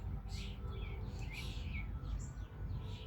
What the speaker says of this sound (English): Even the birds are giving you some.